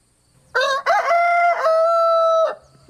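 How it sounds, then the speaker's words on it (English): A single loud, close rooster crow rings out in one sustained, drawn-out call, clear and alone against a quiet background. "that crow is a challenge to all the other roosters in hearing distance"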